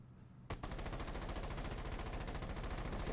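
Rapid automatic gunfire in the video game Rules of Survival, a sustained burst of evenly spaced loud shots that starts abruptly after a brief quiet moment and runs continuously to the end.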